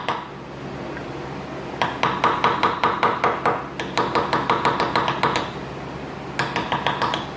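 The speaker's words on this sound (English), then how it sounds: "set the bushing on it on a block of wood with a brass hammer" Rapid light metallic taps from a small brass hammer tapping a bronze bushing into a rocker set on a wood block ring out in quick bursts, bright and clinking, with short pauses between runs.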